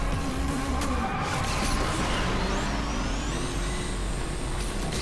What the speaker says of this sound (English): Like an electric, because it's an electric.